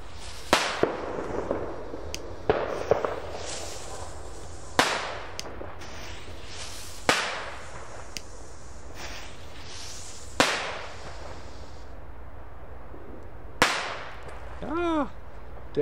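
Lesli China Böller firecrackers explode on New Year's Eve in about half a dozen sharp, loud bangs spaced several seconds apart, each echoing briefly against a quiet outdoor background.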